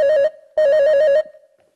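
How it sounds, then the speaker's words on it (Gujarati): A telephone rings in two electronic bursts, a short one and then a longer one, loud and close, before it falls silent. "એક ફોન આવ્યો।"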